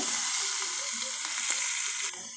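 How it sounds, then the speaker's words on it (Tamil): Small onions sauté in hot oil in a cooker with a loud, close, continuous sizzle that drops slightly near the end. "இது கூட நம்ம சின்ன வெங்காயம் போட்டுக்கோங்க பாருங்கள் வெங்காயம் போட்டு வெங்காயம் போட்டு நல்லா வதக்கிக்கோங்க"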